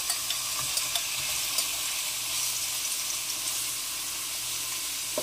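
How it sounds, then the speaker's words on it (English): Steady sizzling and crackling of shrimp frying in olive oil in a hot pan, with occasional louder pops over a constant hiss. "Add your shrimp into the frying pan, and then separate them as you let it cook."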